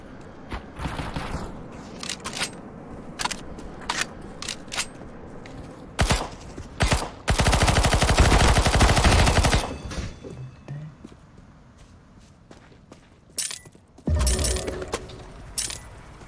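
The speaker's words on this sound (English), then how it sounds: "Somebody's shooting me." Gunfire in the video game CS:GO: scattered sharp single shots, then a sustained loud burst of automatic fire lasting a few seconds, followed by more isolated shots and a second short burst.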